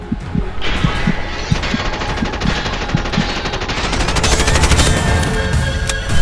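Sustained automatic gunfire in the video game Bright Memory Infinite, a steady rapid stream of loud close shots with rattling mechanical detail and no talking.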